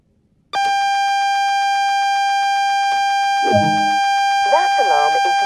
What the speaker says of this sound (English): That alarm is the AWS self-test system.